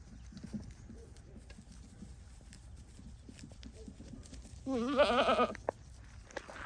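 Goats on a dry farm let out a short burst of bleating partway through, fairly close over a quiet outdoor background, then fall silent again.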